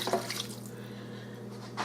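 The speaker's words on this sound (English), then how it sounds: "I'm just going to wash this can out" Tap water runs steadily into an empty tomato sauce can, a soft continuous splashing rinse at close range.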